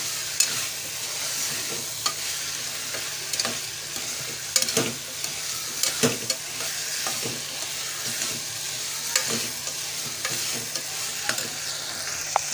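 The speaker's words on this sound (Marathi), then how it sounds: "टोमॅटो आणि बटाटा तो पण चांगलासा तेलावरती परतून घ्यायचा आहे" Tomato and potato pieces stir-frying in oil for a dry vegetable dish, a steady sizzle under repeated sharp clinks and scrapes of a spatula against the pan, close and without talk.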